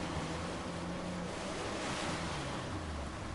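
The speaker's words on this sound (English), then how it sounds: "I think that's a waterfall" Rushing water from a waterfall in the video game Uncharted 4, a constant broad roar with no breaks, steady and fairly loud, with no talking.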